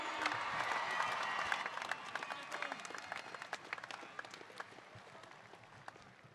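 Stadium crowd applauding and cheering for rugby league player Nathan Cleary at a 2021 premiers celebration, dense clapping that starts loud and slowly thins and fades over several seconds.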